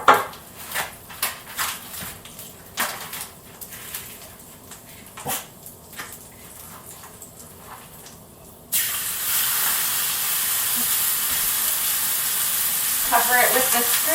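Beef chuck for carnitas in hot oil: sparse clinks and taps at first, then a sudden, loud, steady sizzle of frying that keeps going, with a brief crackling flare near the end.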